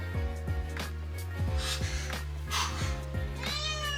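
A female cat meows repeatedly, several loud nearby calls in an uneven rhythm with a long drawn-out yowl near the end, heard indoors in a home kitchen.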